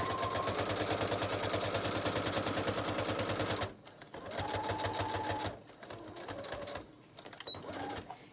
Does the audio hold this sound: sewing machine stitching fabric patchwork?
yes